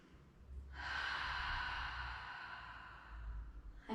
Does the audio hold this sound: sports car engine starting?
no